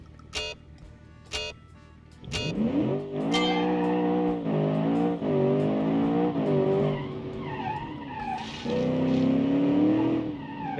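A 2019 Super convertible car accelerates hard through short gears, its engine note rising and dropping with each shift, with brief tyre squeals and revving bursts at the start, heard close and loud.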